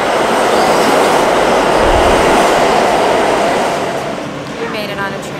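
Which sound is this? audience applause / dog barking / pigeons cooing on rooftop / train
train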